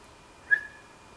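A person gives a single short whistle indoors, one brief rising note, clear and fairly close against a quiet room.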